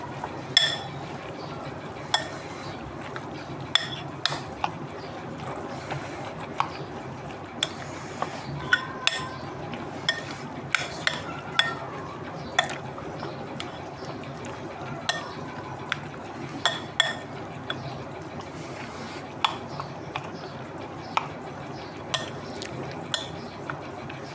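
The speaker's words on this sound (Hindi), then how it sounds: "अब इन चारों चीज़ों को हम मिक्स कर लेंगे। अच्छी तरह से मिक्स हो जाए।" Ginger garlic paste and spices being mixed in a bowl for seekh qeema: a spoon clinks and scrapes against the bowl in a quick, irregular rhythm over a soft wet stirring sound.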